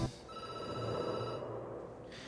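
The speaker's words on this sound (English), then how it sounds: "The phone rings and you jump." A telephone rings in a game setting, a steady electronic ring tone sustained through most of the moment at moderate level, with no talk over it.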